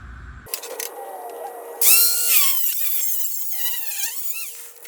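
A power tool cuts through a rubber part on a 1947 Hudson truck. It starts with a loud, close, high whining buzz whose pitch rises and falls as it bites, continuing steadily to the end after quieter handling noises.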